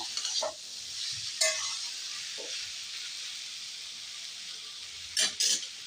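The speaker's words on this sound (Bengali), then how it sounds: "মশলার সাথে ওলটা ভালো করে মিশিয়ে নেব বন্ধুরা" Elephant foot yam with spices being stirred in a pan, a soft steady sizzle punctuated by a few sharp scrapes and clinks of the spatula against the pan.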